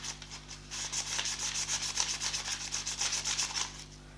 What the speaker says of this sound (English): just a bit of sanding